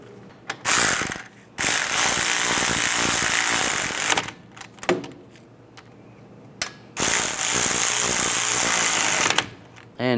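Hand tools tighten the brake caliper bolts on a 1998–2010 Volkswagen Beetle during a front wheel bearing and hub job, with two long bursts of rapid ratchet clicking split by quieter clinks and handling noise.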